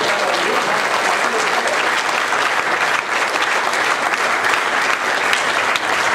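A congregation in a church temple breaks into loud, sustained applause, a dense wash of many hands clapping steadily throughout with no pauses.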